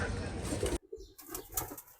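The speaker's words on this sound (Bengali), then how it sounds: "অনেক কবুতর পালে অনেক কবুতর বাজাচ্ছে আমার এখানে" Soft pigeon cooing and fluttering nearby, after a brief burst of rustling noise that cuts off abruptly.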